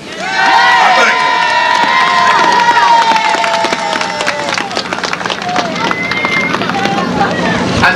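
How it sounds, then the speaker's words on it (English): A rally crowd at a January 1989 march in Washington, DC cheers and applauds in a loud, sustained roar, with shouts and whistles rising over steady clapping throughout. "you should give yourself a big round of applause for being here"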